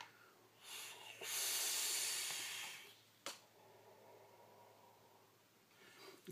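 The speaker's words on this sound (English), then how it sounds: "Let's have a vape." Vapor being drawn through a Doge V2 clone RDA with a competition cap: a long, loud airy inhale hiss lasting a couple of seconds, followed by a softer breathy exhale.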